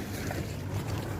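A small sailboat passes by on open water, a steady low rumble with wind noise buffeting the microphone throughout.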